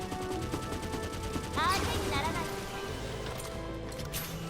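Bazooka fire in the video game Sword Art Online Fatal Bullet, a single loud blast with a rushing whoosh midway through, set over continuous game music and background effects.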